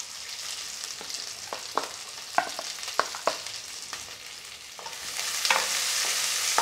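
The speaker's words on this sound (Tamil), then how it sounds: "ஆனியன் ரஃப்பாக வதக்கிட்டாலே போதும்" Sliced onions sauté in a pan over garlic already cooked for American chopsuey, giving a steady sizzle that grows louder toward the end. Sharp clicks of a spatula stirring punctuate the hiss; no one speaks.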